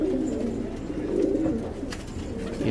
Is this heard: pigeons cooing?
yes